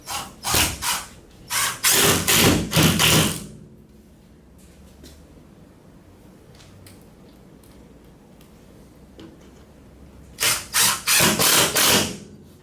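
A power driver sends screws into a wall mounting bracket for a Napoleon electric linear fireplace, two loud bursts of whirring and ratcheting at the start and two more near the end, separated by a long quiet stretch of faint handling noise.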